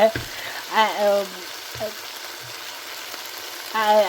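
Mixed vegetables sizzle and fry in a pan while being sautéed for vegetable biryani, a steady crackle with occasional stirring, under intermittent talking.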